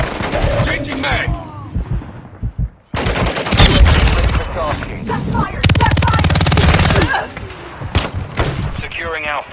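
Automatic gunfire bursts in a military shooter game, loud and close, interrupted by a short pause and then resuming in rapid sustained volleys, with voices calling out commands between shots.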